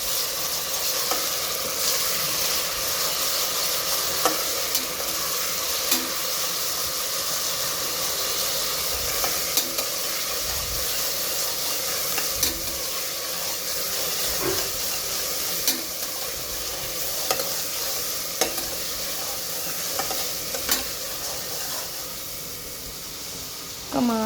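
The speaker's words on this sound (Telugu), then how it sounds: "ఇంకా అల్లం వెల్లుల్లి పేస్ట్ వాసన పోయే వరకు ఫ్రై చేసుకోవాలి." Ginger garlic paste fries in hot oil while being stirred for a chicken dish, a steady loud sizzle with scraping spoon strokes against the pan throughout, no voices.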